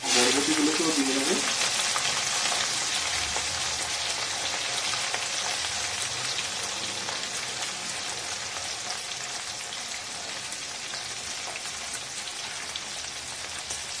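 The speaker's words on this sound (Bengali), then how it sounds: "হালকা গোল্ডেন করে ভেজে নেব।" Carrots and green beans sizzling in oil in a pan for veg khichdi, a dense steady crackle with soft stirring scrapes near the start, continuous and close.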